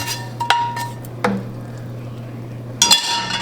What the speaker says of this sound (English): go ahead and put the okra in there